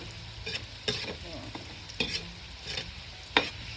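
Spaghetti sauce cooks in a pan under a low sizzle, punctuated by distinct scraping stirs roughly every second, close and clear with no voices.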